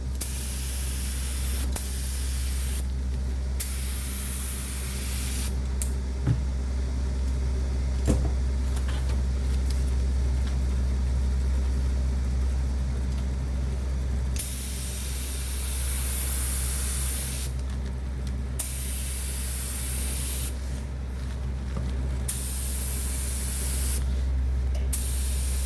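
Spray gun spitting out finish coat during leather restoration of a luxury bag, in close, hissing bursts of several seconds each that start and stop repeatedly over a steady low background hum, with no talking.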